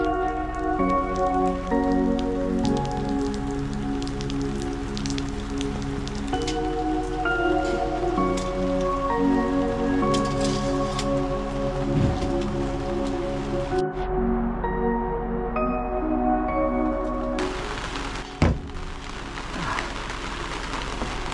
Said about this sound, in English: So today it is raining as you can see, but luckily we've got the awning